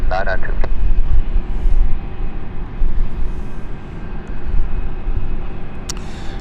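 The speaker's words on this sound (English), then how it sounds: "as we've got KLM taking off right now" A KLM airliner taking off from runway 27 at London City Airport on an evening, a loud, continuous low engine roar with people talking over it.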